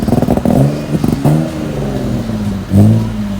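An old Volvo 244 DL engine revving unevenly and stumbling, loud and close, with choppy bursts that sag and surge again, including a rough rise near the end.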